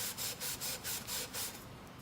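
A Scotch-Brite pad scrubs freshly cut metal exhaust tubing to clear heat marks, six quick rhythmic abrasive strokes up close, then stopping.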